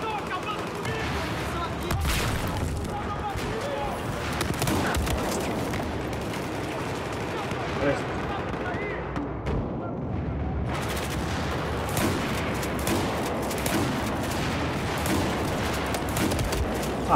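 Gunfire in a video game shooter crackles almost continuously, with rapid overlapping shots and bursts, some sharper cracks standing out, and a brief lull near the middle before the dense firing resumes.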